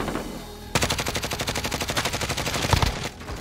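Automatic rifle fire from a Grau 5.56 in Call of Duty Warzone Zombies, a loud, rapid rhythmic burst of closely spaced shots that starts abruptly and runs for about two and a half seconds before cutting off.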